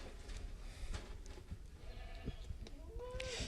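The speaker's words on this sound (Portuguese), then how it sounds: "Nós temos aqui uma cabra." A female goat, held for a reproductive procedure on a farm, gives a short, faint bleat near the end, over steady background rumble and handling noise.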